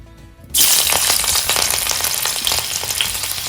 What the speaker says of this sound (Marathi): आता आपण या कढईमध्ये घालतो आहे लसूण